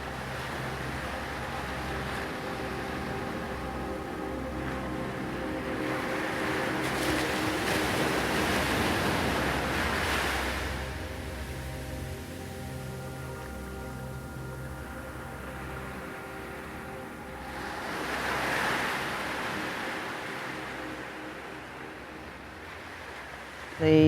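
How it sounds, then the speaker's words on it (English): Ocean surf rolling in steady washes, with two broad swells building and fading, set beneath sustained, droning musical tones in an ambient soundscape of the natural world. "the ocean and the birds."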